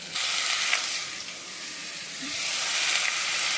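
Aromatics frying in a pan for a country chicken curry give a steady, moderately loud sizzle and hiss that rises and dips slightly, with no voices.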